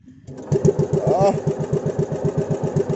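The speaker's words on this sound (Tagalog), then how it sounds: "Ang makina natin ay ito lang." Small fishing boat engine running on a handline fishing trip, a steady rapid chugging pulse that starts up and holds a regular rhythm, loud and close.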